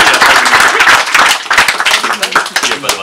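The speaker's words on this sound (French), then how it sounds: "on peut l'applaudir" Audience applause at a business gathering, dense clapping from many hands filling the whole stretch at a steady, fairly loud level, with voices mixed in underneath.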